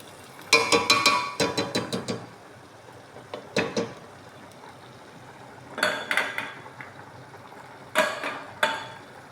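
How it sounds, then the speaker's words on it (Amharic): Tuna going into a cooking pot while preparing a simple dinner: a cluster of clattering metallic clinks and scrapes, then a few separate knocks and clatters spaced out, close and moderately loud, with no voices. "ቱኔን እጨምራለሁ።"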